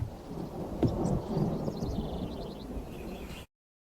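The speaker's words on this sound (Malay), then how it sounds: "Tiba-tiba datanglah kilat menyambar-nyambar." Thunder rumbles with lightning strikes in a rainstorm, a dense low roar with sharp cracks and heavy rain noise throughout, ending abruptly in silence.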